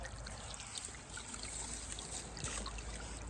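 Water flows steadily from a buried PVC pipe in a rice field, a faint continuous trickle and splash with no voices.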